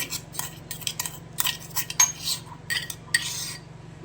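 Metal spoon scraping and clinking in a bowl while crushed chillies are mixed into a mixture, a string of quick, close clatters and taps with a low steady hum underneath and no voices.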